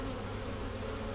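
Honey bees buzzing steadily in an open apiary hive, a close, continuous dense hum with no voices.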